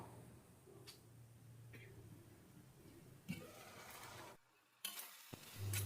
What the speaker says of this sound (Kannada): ಈ ಒಗ್ಗರಣೆ ಪದಾರ್ಥಗಳ ಜೊತೆಯಲ್ಲೇ 1 ರಿಂದ 2 ನಿಮಿಷ ಈ ಮಸಾಲಾನು ಕೂಡ ಫ್ರೈ ಮಾಡ್ಕೊಳ್ಳೋಣ